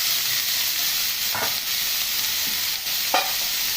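Small chicken gizzard pieces tossed with frying onions in a pan give a constant close hiss, broken by a few distinct spatula scrapes and knocks.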